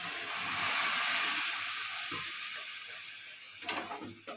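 Spice masala with chili powder for a soybean, cauliflower and potato curry sizzles loudly as a little water goes in during stirring, a steady broad hiss that slowly eases, with a few utensil clinks near the end.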